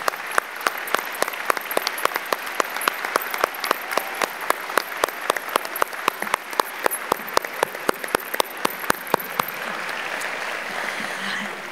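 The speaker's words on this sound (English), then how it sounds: "another round of applause for all of our 2021 honorees" Audience applause for 2021 honorees at a National Philanthropy Day gala in Orange County, steady dense clapping filling the room for about nine seconds before thinning out and fading.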